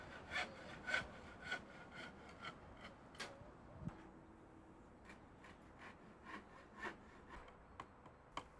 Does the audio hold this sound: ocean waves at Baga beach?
no